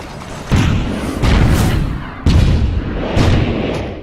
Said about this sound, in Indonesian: Prajurit Feng menghalau mereka dengan serangan meriam.